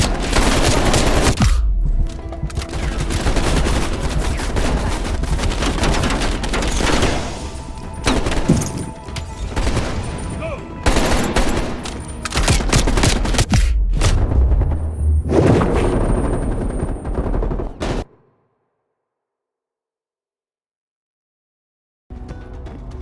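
Gunfire in the video game Call of Duty Cold War: dense, loud volleys of rapid automatic shots and booming impacts that keep going for most of the stretch, then cut to near silence before returning briefly.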